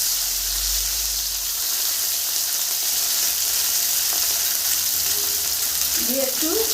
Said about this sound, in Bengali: দিয়ে একটু ভেজে নিব